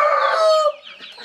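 A free-range farm chicken lets out a loud, close, drawn-out squawking call lasting under a second, then fades into softer background clucks.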